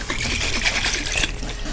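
Liquid from a shaken half jar is poured down around the sides of a pressure cooker holding meat-stuffed pasta, a continuous close trickle and splash of water for the whole stretch.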